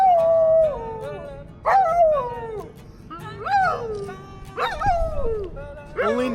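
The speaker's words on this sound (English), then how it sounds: "there's a dog singing" A dog howls in Queenstown, New Zealand, in long rising and falling wails that repeat about five times over several seconds, loud and close, with some voices murmuring underneath.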